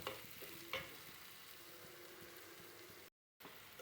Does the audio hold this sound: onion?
yes